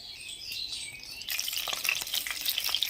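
Prawns fry in hot oil in a wok, a quiet background hiss jumping to a louder, crackling sizzle partway through, with stirring noises and no talk.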